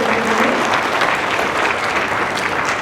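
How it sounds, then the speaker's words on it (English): An audience at an expert panel session applauds, a dense, steady clapping that fills the whole stretch at close range with no pauses. "give a very big round of applause to my great panelists"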